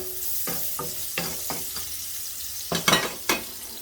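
Garlic fries in oil in a pan, a soft steady sizzle broken by scraping stirs and a few louder clattering knocks of the spoon near the end, with no talking.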